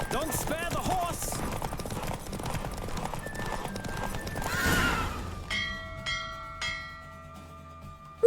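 A horse in The Witcher 3 video game, galloping with quick clip-clop hoofbeats and a loud neigh, then settling into quieter, sparser tones as the ride ends.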